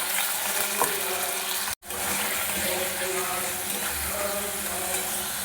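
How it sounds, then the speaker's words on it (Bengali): Ginger and green chilli fry in a pan for a vegetarian paneer dish, with tomato paste then added. A continuous loud sizzle plays, with one brief sharp drop about a third of the way in. "আদা কাঁচা লঙ্কাটা একটু ভাজা ভাজা হয়ে গেলে এর মধ্যে দিয়ে দেবো টমেটো পেস্ট"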